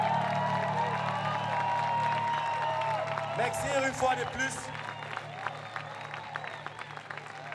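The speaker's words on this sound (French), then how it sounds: "Applaudissez pour vous-même." An audience applauds for a few seconds as someone speaks over music, and the clapping fades while he keeps talking.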